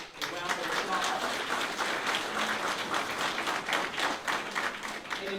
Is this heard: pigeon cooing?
no